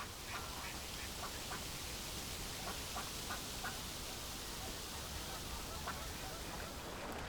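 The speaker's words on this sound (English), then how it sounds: "It's hardly surprising that countless waterfowl settle here." Waterfowl, ducks among them, on a wetland lake, giving scattered quacks and calls over a steady broadband wash of wind or water, moderately distant and without any talk.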